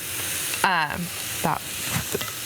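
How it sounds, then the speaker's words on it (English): Steak sears in a screaming hot cast iron skillet, giving a steady sizzling hiss close by, with a voice briefly talking over it. "And then this goes into a screaming hot cast iron skillet."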